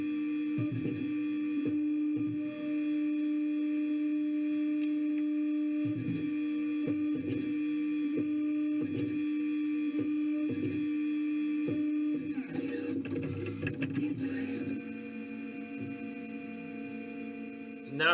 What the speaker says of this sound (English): I'm just going around and cutting a chamfer on this piece.